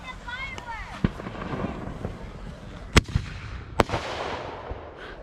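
Fourth of July fireworks go off outdoors, with several sharp bangs and pops scattered irregularly, one whistling rise early on, and people talking and calling out throughout.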